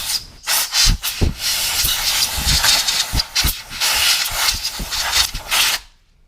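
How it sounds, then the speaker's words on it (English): Bursts of compressed air hiss loudly around the spark plug wells of a Honda Goldwing GL1800 motorcycle engine, coming in repeated short blasts separated by brief pauses before cutting off. "I want to just blow out some of the debris with air."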